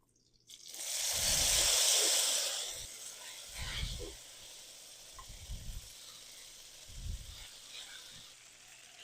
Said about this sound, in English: at this point, we're going to add the spaghettis.